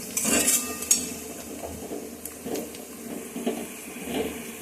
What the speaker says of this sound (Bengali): এখন বেরেস্তাটা ভেজে নিচ্ছি